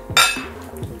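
Lamb curry being stirred in a cooking pot, with a short bright metallic scrape and clink of a utensil against the pot rim and soft knocks around it, close and fairly loud.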